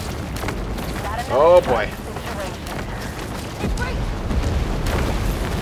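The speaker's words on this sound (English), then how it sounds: "Ooh, they got bombs, yo." Bombs explode in the Maneater shark game, a deep boom rising briefly over rumbling underwater ambience, followed by a heavier rumble later, with a voice speaking close by.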